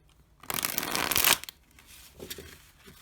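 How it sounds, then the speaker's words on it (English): A deck of tarot cards is riffled and shuffled by hand in one loud, dense burst of papery flutter lasting about a second, followed by quieter handling taps and slides. "Whoops, I almost dropped a whole deck with the tarot cards"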